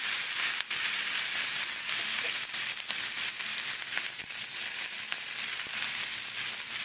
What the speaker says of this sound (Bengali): এই যে চিংড়ি মাছটা ভাজছে